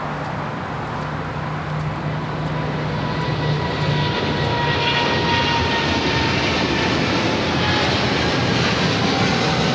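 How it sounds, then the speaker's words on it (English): A Boeing 777 freighter jet takes off from runway 25 left at Los Angeles airport, its engines roaring loud and steady throughout, with a brief low tone early on and no talk. "At that 777 freighter heading to Miami, Flight 5302, rolling down 25 left."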